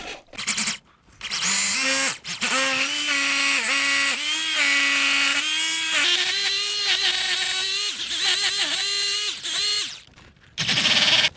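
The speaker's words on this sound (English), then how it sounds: "That's a 30mm drill bit on there." A power drill with a 30mm drill bit whines loudly in long bursts, its pitch rising and dipping as it bites into material, with short pauses between runs.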